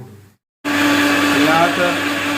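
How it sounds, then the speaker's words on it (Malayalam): A mixer grinder whirs into a loud, steady grind of roasted chilli powder, turmeric, coriander and onion for a sardine curry, starting abruptly after a short silence and running continuously up close. "മിക്സിക്കകത്ത് കുറച്ച് സവാള ഇട്ടിട്ട് അരയ്ക്കുക"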